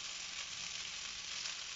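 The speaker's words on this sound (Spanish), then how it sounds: "Vamos a freír un poquito, voy a agregar un poco de aceite de oliva." Pasta frying in olive oil gives a steady, dense hiss of sizzling that holds evenly throughout, close up and without talk.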